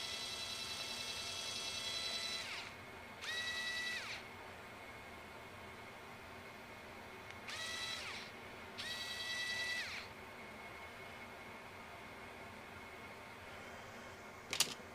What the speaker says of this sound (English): So this is an Aeromax drill.